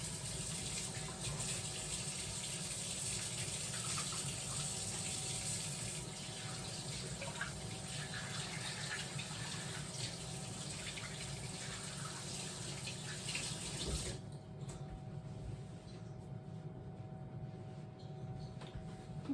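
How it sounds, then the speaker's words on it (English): Tap water running steadily into a sink while hands are rinsed, a constant soft splashing stream that cuts off near the end, leaving quiet room tone. "So I'm just gonna rinse my hands."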